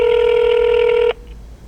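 A phone call placed through Siri rings with a steady, loud electronic tone for about a second, then cuts off into low background hiss.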